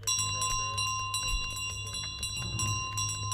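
A small bell carried by the goose in Untitled Goose Game rings in repeated bright tones over a busy, loud game soundscape of music and background noise.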